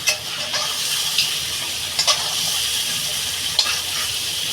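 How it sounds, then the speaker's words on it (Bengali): Fish frying in a pan gives off a steady, close sizzle, broken by a few sharp spatters and stirring scrapes, with no talking. "মাছটা আমার ভাজা হয়ে গেছে"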